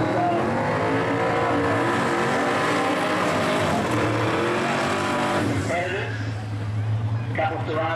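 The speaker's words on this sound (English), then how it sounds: "200 mile an hour in that little Cortina" Twin-turbo V8 Ford Cortina drag car at Willowbank Raceway, a loud sustained engine roar with rising harmonic sweeps as it accelerates, then a shift in tone near the end, with a voice talking over it.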